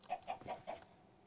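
A chicken in the video game Minecraft clucks four times in a quick, even rhythm, soft and close, with no talking.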